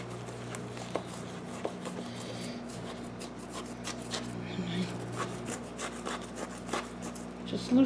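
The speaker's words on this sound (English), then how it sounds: "Just loosening up the soil a little bit." Potting soil being loosened in a plant pot during repotting: soft, gritty scraping and rubbing, quiet and close, repeating in irregular strokes with faint background hum.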